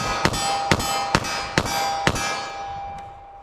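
.40 S&W Blazer Brass rounds strike steel targets from 12 yards: five sharp metallic clangs land about half a second apart, each leaving a brief bright ring before fading.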